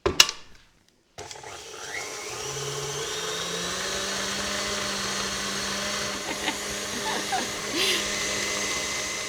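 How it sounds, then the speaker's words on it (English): An electric mixer whirs steadily as it creams butter and sugar for a chocolate loaf cake, a continuous motor drone after a brief clatter and pause, moderately loud and close in a kitchen. "we're just going to continue mixing for about another minute and a half until it's really fluffy"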